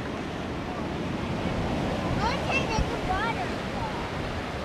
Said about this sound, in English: See the water filling it up?